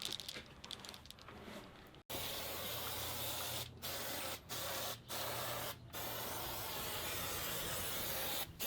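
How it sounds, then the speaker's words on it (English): 3M spray adhesive hisses from an aerosol can in a continuous close spray inside a Sprinter 4x4 camper cab roof during insulation work, broken by several short pauses before spraying resumes. "I got the 3M adhesive sprayed all through here"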